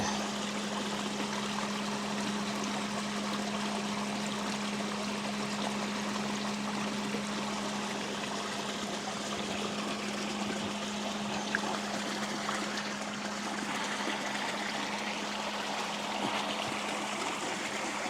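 Water pours steadily from a hose into a homemade gold trap contraption outdoors, a continuous, even rushing and trickling wash with a low steady hum beneath it, holding at the same level throughout.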